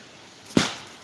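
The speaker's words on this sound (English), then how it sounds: "those popping noises you hear in the background, that's not a gun. That's beer cans exploding." A beer can bursting with a single sharp pop, brief and fairly close, with a short noisy tail fading away in an otherwise quiet outdoor background.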